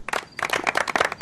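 A small group claps hands in a quick, uneven patter, close and fairly loud, a short burst of applause with no talking over it.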